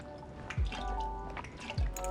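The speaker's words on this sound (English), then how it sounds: "I'm gonna use some lime bitters. I'm gonna go 4 dashes." Lime bitters shaken in a few quick dashes into a cocktail, giving two short, close drips about a second apart against a quiet background hum.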